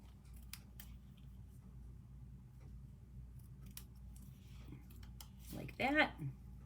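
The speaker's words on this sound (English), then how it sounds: "And then I'm going to take my paper snips and just snip." Paper snips cut through paper for a handmade card in a brief crisp burst of snipping near the end, after quiet background ticks and clicks, with no talk over it.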